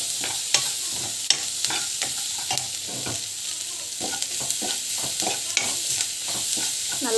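Pasala keerai greens fry in oil with asafoetida, giving a constant hissing sizzle broken by regular, close scraping strokes of a spatula against the pan.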